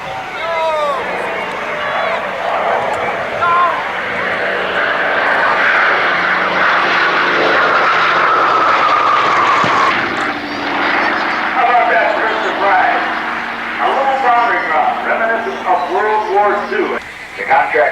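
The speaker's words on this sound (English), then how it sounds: "75 miles an hour, the A-26 Invader from Airspray. Keep your eye on the airplane." A Douglas A-26 Invader from Airspray at the 1989 Red Deer International Airshow roars past, its piston engines loud and sustained, under a public-address announcer's voice.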